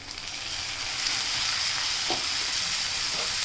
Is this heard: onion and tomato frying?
yes